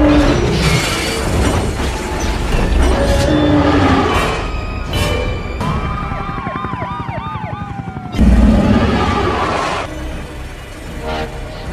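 A train rumbles along the rails with rhythmic clatter and high metallic squeals from the wheels, loud and close.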